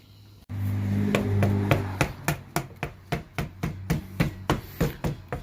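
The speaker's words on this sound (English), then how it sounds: "hammer like this and just tap it down" A hammer taps down a bend in sheet metal against a board while an Arctic Cat 300 4x4 arm guard is formed, about a dozen sharp metallic strikes in a steady rhythm, close and loud, after a brief low hum.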